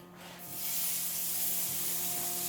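Four Cajun-seasoned beef burgers go into a hot pan and set off a broad, steady hiss of sizzling that swells within a moment and holds evenly, close and without talk.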